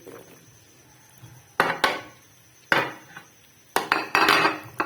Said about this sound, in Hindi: पहले इसमें डालते हैं केले